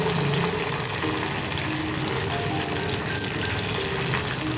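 Pomfret fish sizzles steadily as it fries in a pan for a steamed soy-sauce dish, a loud continuous crackle close by with no talking.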